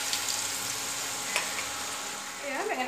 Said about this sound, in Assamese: বাকী কেইপিচ বেঙেনাও এনেকৈ এপিচ এপিচকৈ ভাজি পেলাওঁ।